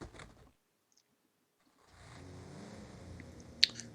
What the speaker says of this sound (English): Cybil straddles the motorcycle in the garage, inserts the key, and revs the engine.